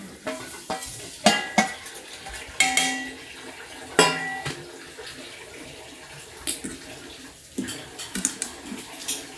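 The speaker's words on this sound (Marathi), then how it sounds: "त्याला चांगलं आपण हलवून घेऊया." Amla pickle with spice masala being stirred in a pan, with irregular wet squelching stirs and clanks of the spoon against metal over a soft sizzle, up close.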